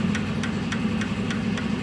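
A brand-new Mahindra Arjun tractor, modified with a turbo, idles close by with a steady low diesel rumble and a regular knocking pulse about four times a second, no voices over it.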